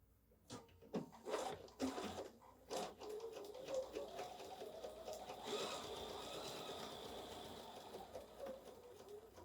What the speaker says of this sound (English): So I'll start stitching 3 stitches before my line.